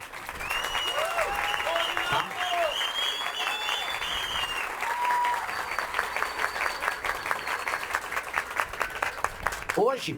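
An audience at a Brazilian political party membership event breaks into applause, thick crowd clapping with individual claps standing out near the end, while tonal sounds and a voice run over the first half.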